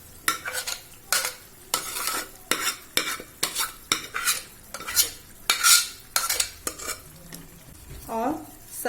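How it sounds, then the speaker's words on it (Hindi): A spoon repeatedly scrapes and stirs mustard greens (sarson ka saag) into cooked tomatoes in a pan, giving about a dozen near, rhythmic metallic scrapes over a soft sizzle. "अब इस साग को हम इसमें डाल देंगे"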